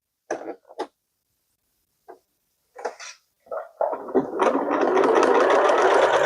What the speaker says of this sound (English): I need to sew this one because we had it glued on both sides